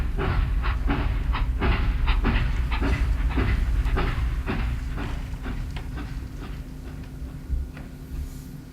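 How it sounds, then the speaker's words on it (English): A steam-era train pulls away from a station as a radio drama effect: a steady rhythmic clickety-clack of wheels over rail joints with a low rumbling engine, loud and continuous, slowly easing and growing slightly softer toward the end. "The night George saw his uncle off at the train station"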